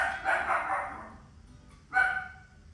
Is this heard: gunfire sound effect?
no